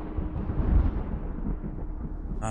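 Low, rumbling thunder rolls through a stormy night in the horror game MADiSON, a dark booming swell that slowly fades, ending with a brief sharp sound.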